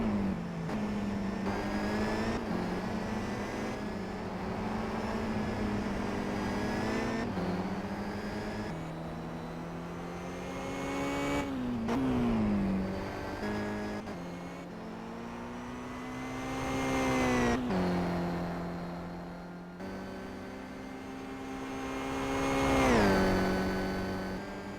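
Race car engines howl through a Simraceway sim-racing qualifying session, rising and falling as cars accelerate, shift gears and sweep past. The engines are loud and continuous, swelling near the end as a car passes close, with no talking.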